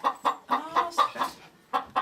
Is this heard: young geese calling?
yes